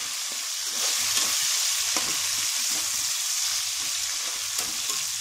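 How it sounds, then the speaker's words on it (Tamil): Onions and tomatoes fry together in sunflower oil for a village-style fish curry, giving a moderate, even sizzle. Soft stirring scrapes come and go underneath, and there is no speech. "வெங்காயம் நல்லா வதங்கினதுக்கப்புறம் தக்காளி போட்டு ரெண்டையும் நல்லா வதக்குறோம்."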